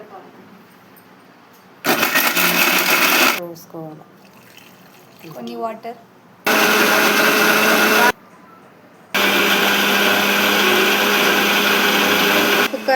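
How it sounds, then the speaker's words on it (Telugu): Mixer grinder grinding cut coconut for a payasam, running in three loud, steady bursts with quieter gaps where a person talks. "మనం కట్ చేసుకున్న కొబ్బరిని మిక్సీ పట్టుకోవాలి"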